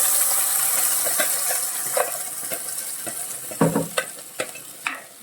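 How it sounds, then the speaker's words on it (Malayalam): Curry leaves and ground coconut paste sauté in hot oil for a pearlspot curry, a continuous close sizzle broken by repeated scraping stirs and sharp clacks of a spoon against the pan. "നന്നായിട്ടൊന്ന് എണ്ണയിലിട്ടൊന്ന് വാട്ടിയെടുക്കണം."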